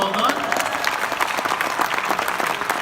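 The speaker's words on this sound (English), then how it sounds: "Give her a round of applause." Dense, steady applause from an audience at a business event, continuous clapping throughout with no pauses.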